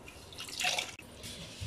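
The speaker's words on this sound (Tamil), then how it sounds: "நல்லா கசக்கி புழிஞ்சிங்கன்னா அந்த பால் நல்லா தெளிவாக உங்களுக்கு இருக்கிற பால் எல்லாம் வந்துடும்" Coconut milk drips and trickles into a vessel as grated coconut soaked in water is squeezed by hand, a soft, close, brief splatter of liquid.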